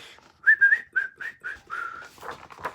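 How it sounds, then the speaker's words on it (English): A person whistles a short, wavering tune of about seven breathy notes close by, the last few fading into airy, unsteady tones. "Do you know how to whistle"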